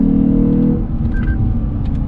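A 2020 Lexus GS F engine runs at a steady, rumbling idle-like drone, with a brief higher whine partway through; no revving climb stands out.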